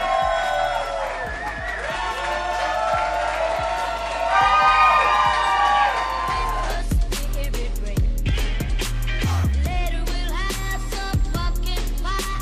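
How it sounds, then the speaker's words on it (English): A Christmas party crowd claps, cheers and whoops loudly and continuously, with shouts rising over the applause as it swells and then settles, close and dense throughout. "The loudest clap and cheer will win."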